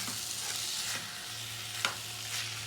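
A spoon stirs carrots and other ingredients in a hot pan, making soft scraping strokes over a steady low sizzle, with one sharper knock partway through, close and alone.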